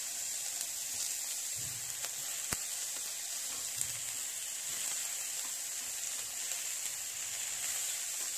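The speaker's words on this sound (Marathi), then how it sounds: "आता आपण यामध्ये शिमला टाकूया, बारीक चिरलेली शिमला।" Finely chopped capsicum sizzling steadily in a hot pan at a home cooking contest, a continuous close frying hiss with faint stirring clicks throughout.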